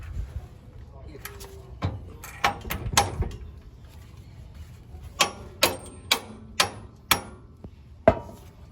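Hammering on a 4th-gen Toyota 4Runner prerunner during a three-link suspension install, sharp separate metal strikes in two bursts, a slower irregular group then a faster regular run of about six blows, over faint workshop background.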